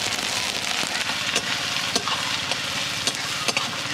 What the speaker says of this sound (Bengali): তেল গরম হয়ে গেছে, ছোট ছোট করে কুচিয়ে রাখা পেঁয়াজগুলো দিয়ে দিচ্ছি।